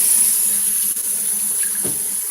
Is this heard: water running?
yes